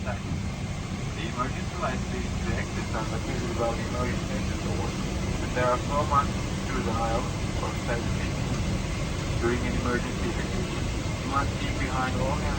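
Steady droning hum of an IndiGo airliner cabin before takeoff, with engines and air vents running, while people talk nearby.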